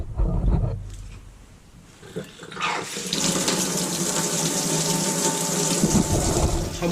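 Cold water gushes steadily from a tap after a short quiet stretch, a close, constant hiss that continues to the end.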